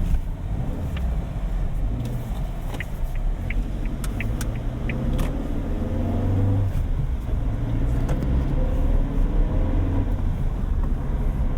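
Steady engine drone and road rumble inside a Suzuki Jimny cruising at about 40 km/h, a continuous low hum with faint ticks and rattles of the cabin, no voices.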